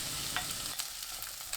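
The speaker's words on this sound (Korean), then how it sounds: "양파 넣고 1분 볶습니다." Onion stir-frying in hot cooking oil with minced garlic in a pan over high heat, a steady close sizzle with brief scraping stirs.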